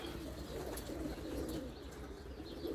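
Returning racing pigeons fill their loft with overlapping low, rolling coos, a soft continuous murmur of many birds with occasional higher chirps, at low volume.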